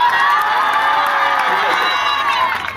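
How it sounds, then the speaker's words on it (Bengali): A loud crowd cheers and claps for an award winner at a local Kanupur versus Khidirpur football match, a dense, continuous roar with shouting voices that holds steady and eases slightly at the end. "এবার আমিলের জন্য হাততালি হোক জোরদার"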